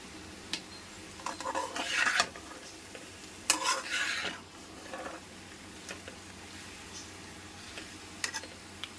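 Potato curry cooking in a pan, with a spoon stirring and scraping in a few quiet bursts over a low background simmer and faint ticks. No one speaks.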